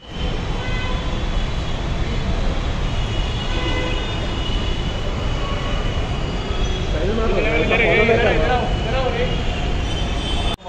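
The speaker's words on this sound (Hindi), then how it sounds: "हम लोग अभी मेट्रो स्टेशन में हैं" Steady low rumble of a train in an enclosed metro station, with a rising metallic whine toward the end and indistinct voices mixed into the din.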